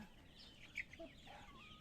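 Chickens on a farm give soft, short clucks, a couple of faint calls rising briefly over a quiet background.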